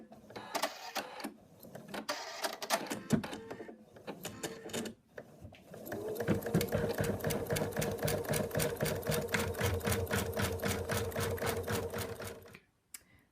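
An embroidery machine stitches a placement line for an in-the-hoop moose design, a fast, steady mechanical needle chatter with a continuous motor hum, close and moderately loud, running for several seconds before stopping.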